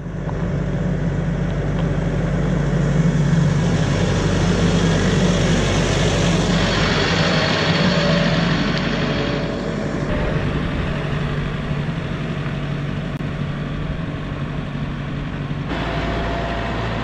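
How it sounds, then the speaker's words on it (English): Tractor engine running for gravel driveway work with a box blade, a loud, steady, close diesel drone with broad rumble that holds at an even level throughout, no talk. "Let's hop in the tractor, get it started, and get to work."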